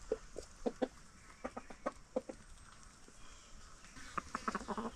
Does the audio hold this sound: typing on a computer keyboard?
no